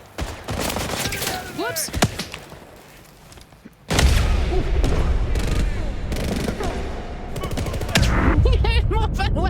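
Video game First Light gunfire: scattered shots at first, then sustained heavy bursts of rapid gunfire and booms, loud and close, with a player's voice in between.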